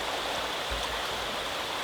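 Cranberry Creek flowing past rhododendrons and hemlocks, a steady, fairly loud broadband rush of moving water, close by and continuous with no voices.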